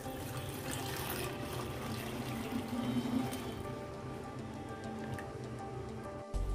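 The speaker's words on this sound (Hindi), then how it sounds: "मैं डालूंगी इसमें गर्म पानी।" Hot water is poured into a container of baking soda and dishwashing liquid in a home kitchen, a soft, continuous splashing trickle that is faint and steady, ending with a brief bump.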